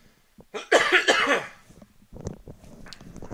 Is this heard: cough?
yes